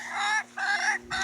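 A rooster among Polish chickens gives three short, loud, close bursts of crowing and clucking, separated by brief pauses.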